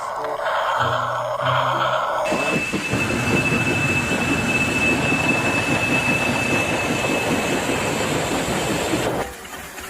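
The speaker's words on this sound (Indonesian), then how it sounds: "Dapatkan kereta api teman-teman. Coba dinyalakan. Wah, kereta api Thomas." A small motorized Thomas toy train runs steadily with a whirring hum and rapid clicking wheels, loud and continuous, with a high whine above it.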